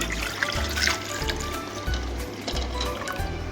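Water runs from a tap into a pot holding five eggs set for boiling, a close, continuous gushing fill with splashy bubbling and a faint low hum beneath.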